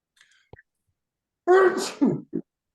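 A single loud sneeze bursts out close up after a quiet moment, followed by a brief breathy aftersound.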